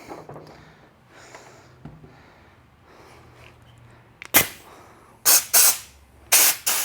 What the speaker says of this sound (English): blow some of it out of there and some of it further in there with this air gun, dry it out